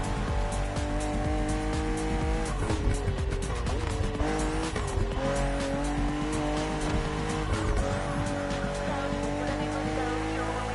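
A BMW M CSL in The Crew Motorfest racing game revs hard with a steady high-pitched engine drone, its tires squealing repeatedly through corners, loud and close throughout.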